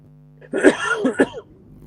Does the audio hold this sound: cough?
yes